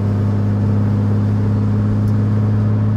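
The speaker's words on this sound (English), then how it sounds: "I'm turning the key. It's cranking. It fires, right?" An RB20 engine swapped into a Nissan 240SX runs after cranking and firing, giving a steady low droning hum with no break throughout.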